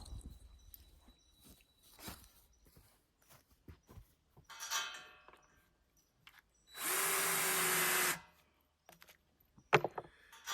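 A power drill whirs loudly for about a second nearby, between scattered clicks, knocks and handling noises.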